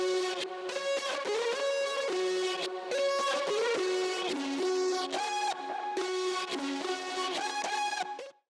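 A chopped vocal sample with reverb, delay, distortion, compression and EQ sings a short melodic phrase of bright, tonal syllables that step between pitches, smeared by echo and tails.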